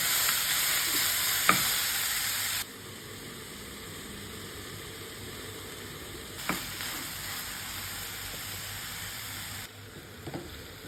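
Vegetables for a mixed-sauce pasta cooking in a pan, heard as a faint steady sizzle with a few sharp stirring knocks of a utensil against the pan.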